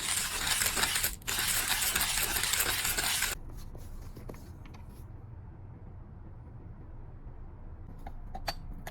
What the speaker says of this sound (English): I'm going to grind 13 grams of coffee with the King Grinder P2 on its